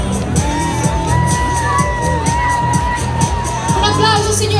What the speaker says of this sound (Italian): Un applauso signori e signori per questo secondo posto